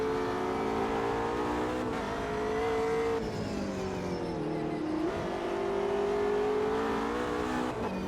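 A race car engine in the Automobilista 2 sim racing game on the Nordschleife, loud and close, droning steadily as it accelerates, with pitch dips at gear shifts and no voices.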